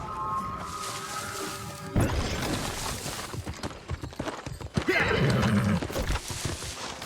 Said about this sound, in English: Let's get our horse up here.